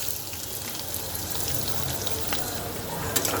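Chopped onion and green chilies frying in hot oil with nigella seeds, a steady close crackling sizzle with scattered sharp pops throughout, no talk.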